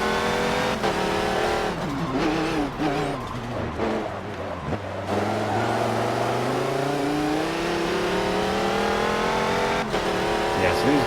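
Race cars at Sebring in Forza Motorsport 7, engines revving and shifting with rising pitch sweeps and tire noise, loud and continuous, while someone talks over them.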